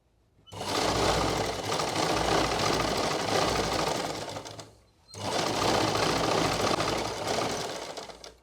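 An electric sewing machine runs in two long bursts, stitching along the hem edge of a salwar, a steady close whirring hum broken by a brief pause in the middle, with no speech.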